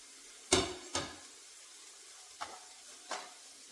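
Carrots being stirred into onions and masala frying in a pan, with a faint sizzle broken by a few distinct scraping stirs, two close together early and two more later, no voices.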